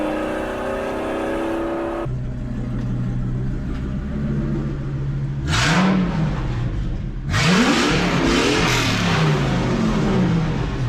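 A straight-piped V10 in a Ford Excursion roars loudly and steadily, its exhaust drone swelling in two hard revving bursts partway through, with no talking over it.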